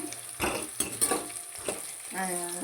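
Food sizzles and fries in a pan while a utensil stirs it with several scraping, clattering strokes, close and moderately quiet, with no speech.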